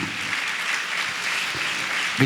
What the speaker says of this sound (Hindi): हम तालियां बजाए प्रभु यीशु को धन्यवाद दें।